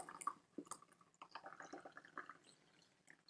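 Hot water at 60 to 70 degrees Celsius is poured from a kettle onto Karigane green tea leaves, giving soft splashes and drips that are quiet and close.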